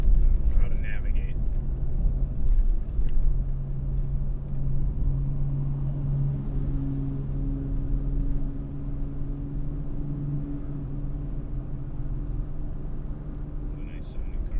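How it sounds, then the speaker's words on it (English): A car engine hums low and steady from inside the moving vehicle, with faint sustained tones rising and falling over a rumbling road noise, while people talk over it. "It's a nice sounding car."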